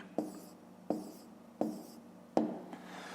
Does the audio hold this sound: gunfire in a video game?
no